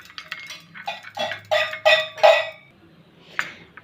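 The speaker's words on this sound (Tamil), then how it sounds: "இப்போ எல்லாம் மிக்ஸ் பண்ணிடலாம்." A spoon stirs a homemade skin care paste in a bowl, giving a run of close, repeated scraping and clinking strokes that fade out toward the end.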